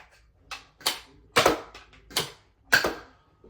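A Nerf Elite 2.0 Trio blaster fires foam darts in a string of about six sharp, close pops spaced irregularly, each with a brief springy snap, with no talking.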